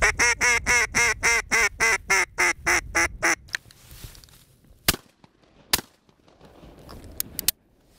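Gray teal ducks on an Australian wetland give a loud, rapid run of about a dozen quacks close by. The calls then stop, leaving a quiet marsh broken by a few sharp clicks and knocks.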